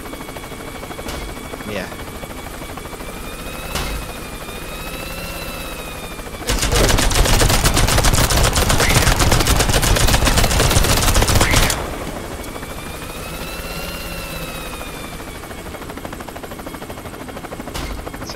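Helicopter rotor whirring in the Worms video game, a continuous buzzing drone broken by a loud burst of rapid gunfire-like clatter in the middle, then the hum resumes; a brief spoken word is heard.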